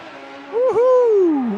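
Kawasaki ZX14 and Suzuki Hayabusa drag racing motorcycles at the Fuel Tech World Finals 2024: one loud, close engine note climbs, dips sharply for an instant, then swells and slides steadily lower in pitch.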